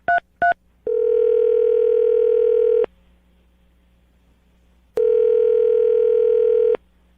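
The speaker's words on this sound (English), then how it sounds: "I'm going to dial the phone number right now" Telephone keypad tones: two quick beeps followed by a long steady tone, a pause, then a second long steady tone, clear and close with no talking.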